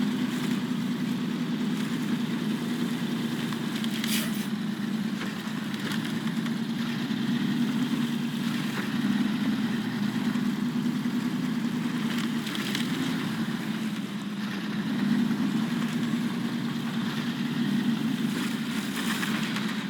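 A heavy off-road truck engine in the video game SnowRunner runs steadily at a low, even drone throughout, grinding along a tight trail with no speech.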